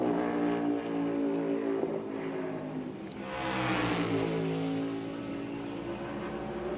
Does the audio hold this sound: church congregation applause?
no